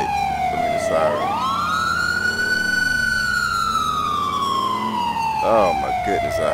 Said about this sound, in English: I know you hear the light. I mean, the siren.